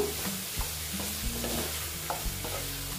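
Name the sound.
frying in a pan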